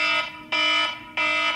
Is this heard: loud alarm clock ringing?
yes